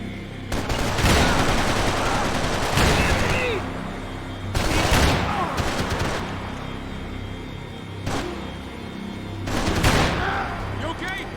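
Gunfire in the video game Max Payne 3 comes in about four loud, close bursts of rapid automatic shots separated by short lulls, with character voices between volleys.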